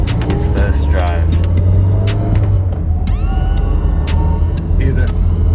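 A Toyota AW11 MR2 non-turbo car engine drones steadily while driving, a low constant hum with some clicks and rising tones over it, close and moderately loud throughout.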